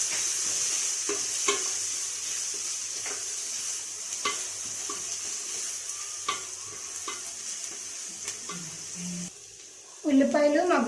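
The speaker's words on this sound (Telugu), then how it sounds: "అలాగే పసుపు, యాడ్ చేసుకొని ఒక 2 మినిట్స్ పాటు ఫ్రై చేయాలి." Chicken curry base fries with salt and turmeric for a country-chicken pepper stew, a steady close sizzle with scattered stirring scrapes, ending in a louder burst of clatter and sizzle.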